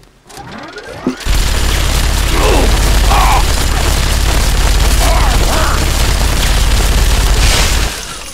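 A minigun in the video game Fallout 3 spins up and fires a loud, continuous roaring stream of rounds for several seconds, then cuts off, with faint mechanical clatter before the burst begins.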